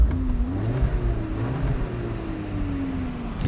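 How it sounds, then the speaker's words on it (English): A 2018 VW Beetle Dune Convertible engine idling after start-up, a low steady hum with a gentle rise and fall in pitch, close and alone. "You press the start button. Car comes to life. Sounds pretty good."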